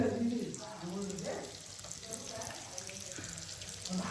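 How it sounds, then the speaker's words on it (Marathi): Large river fish coated in masala fry dry in a pan, a soft continuous sizzle with faint crackles, quiet and close. "मस्त मसाला लावून सुका फ्राय करते"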